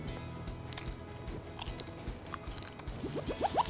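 Close-up chewing of stir-fried shrimp balls and squid with salted egg and kaffir lime leaf, a steady run of soft, wet munching and squishy bites, growing slightly louder toward the end with no talking.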